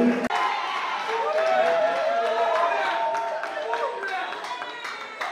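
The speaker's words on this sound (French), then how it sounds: "Est-ce qu'on peut applaudir pour cet extrait, s'il vous plaît?" Applause from an audience at a French-language awards ceremony, a dense steady patter of clapping and crowd noise with a voice carrying over it throughout.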